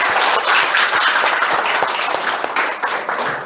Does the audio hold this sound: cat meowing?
no